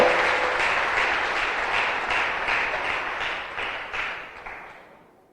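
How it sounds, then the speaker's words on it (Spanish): A church congregation applauding during a sermon, a full, steady burst of many hands clapping that gradually fades out over several seconds. "dale un fuerte aplauso al Rey de Reyes"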